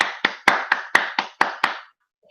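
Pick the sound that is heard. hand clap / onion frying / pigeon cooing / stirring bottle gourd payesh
hand clap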